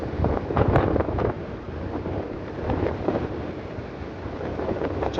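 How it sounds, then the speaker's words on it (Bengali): Strong wind blowing at a seaside viewpoint near a marine drive, a constant loud roar buffeting the microphone with faint surf underneath, no voices. "প্রচণ্ড হাওয়া"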